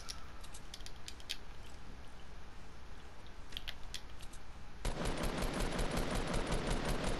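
Gunfire in the video game Fortnite, rapid distant shots crackling at first, then a sudden loud sustained burst of automatic fire dominating the last couple of seconds.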